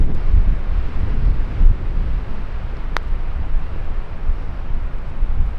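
Strong downwind gusts on a golf course buffet the microphone with a constant low roar and gusty rumbling, with no voices.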